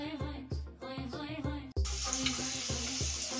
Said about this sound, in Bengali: এবার ফুচকা ভাজবো